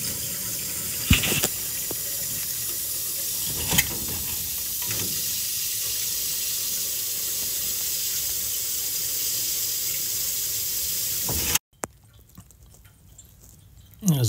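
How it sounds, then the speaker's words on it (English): Water runs steadily into a magnetic filter under a boiler with a constant rushing hiss, punctuated by a few clunks, then stops, leaving near silence before another knock. "Okay, we just put some water in."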